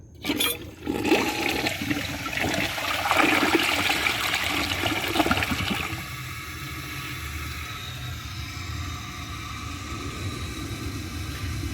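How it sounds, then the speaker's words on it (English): A 1994 Mansfield Alto toilet gives a second flush: a loud, rushing gush of water for several seconds, then easing into a steadier, quieter refill hiss. "I'm going to give it a second flush to see if it can get the rest from around the edges"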